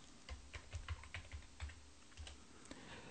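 Keys tapped on a computer keyboard while a pen style name is entered in animation software, a short quiet run of separate clicks with small pauses between them, no talking.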